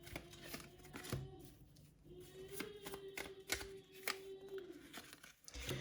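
Tarot cards drawn from a deck for a yes-or-no reading, with soft, quick card slides and snaps at irregular intervals, close and quiet, no talk.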